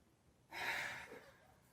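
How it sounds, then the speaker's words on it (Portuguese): A single audible breath, taken as a breathing exercise during a children's lesson, rises suddenly and then tapers over about a second, close to the microphone with no talk over it. "um exercício de respiração"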